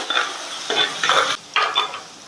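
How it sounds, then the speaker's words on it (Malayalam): Crushed garlic and ginger sautéed in a pan for a boat-style fishermen's fish curry, stirred in three short bursts of scraping and gentle sizzling separated by brief pauses, close and fairly loud, with no talking. "അതിൻ്റെ പച്ചമണം മാറുന്നത് വരെ ജസ്റ്റ് ഒന്ന് വഴറ്റിയെടുക്കാം"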